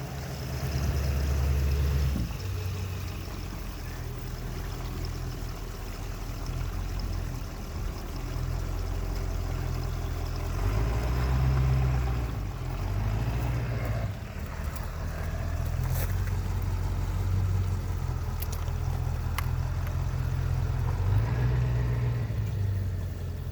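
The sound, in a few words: RV gray water tank draining through the dump spout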